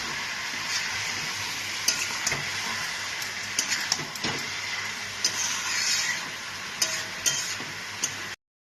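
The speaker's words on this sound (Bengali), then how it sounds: "এবার নাড়িয়ে নিচ্ছি" Papaya and potato curry being stirred in a pan, a steady sizzling fry with scattered clinks and scrapes of the spoon against the pan throughout.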